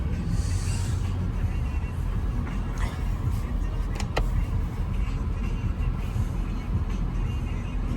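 An automatic car pulls away along a snowy road in extreme cold of about –18°C, its steady engine and road rumble running continuously and fairly loud, with a couple of brief clicks partway through.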